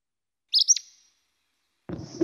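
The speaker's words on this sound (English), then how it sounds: "the Acadian flycatcher, its mnemonic is pizza" An Acadian flycatcher gives a single sharp, explosive call, clear and isolated against silence, followed about a second later by a fainter, rougher burst of sound.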